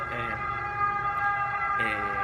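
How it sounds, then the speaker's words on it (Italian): An emergency vehicle siren sounds from outside, a steady tonal wail with harmonic bands held through the whole stretch and swelling near the end, moderately loud behind a room setting. "Scusate la sirena."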